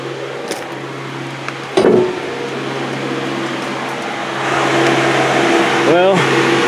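A 1979 Chevy K20 engine with a new carburetor fails to idle, a low steady hum with a fan-like whir, a brief clunk, then a louder running drone near the end, with a voice heard over it.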